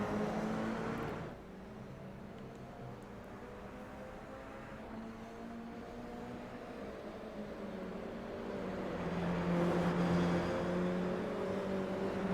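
Toyota GR86 race cars lap the Chicago street circuit in iRacing, their engines holding a continuous tonal whine that slides up and down in pitch and grows louder toward the end.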